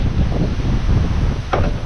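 Steady broadband wind blows outdoors for the full stretch, near and fairly loud across the microphone, with a brief brighter gust-like burst near the end.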